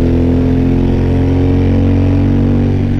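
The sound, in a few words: Suzuki V-Strom 1000 2014 motorcycle engine and exhaust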